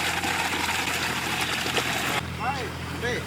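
Water pours and splashes in a steady, rushing stream close by during a Diwali oil bath in a village, with voices talking over it.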